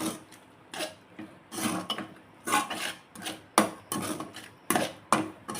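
A spoon scrapes and drags through thick carrot burfi mixture in a pan, rhythmic rasping strokes about once a second, close and alone.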